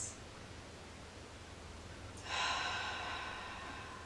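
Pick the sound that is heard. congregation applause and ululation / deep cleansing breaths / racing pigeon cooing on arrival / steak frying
deep cleansing breaths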